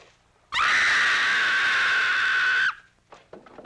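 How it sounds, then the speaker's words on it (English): A woman's long, piercing scream from a 1960 horror film, loud and sustained for about two seconds before cutting off, followed by faint breathy sounds. "That was a scream."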